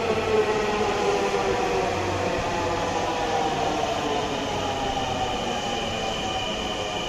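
A Dhaka metro rail train pulls into station platform 1, its steady rolling rumble and rail hiss continuous and fairly loud throughout, with no voices.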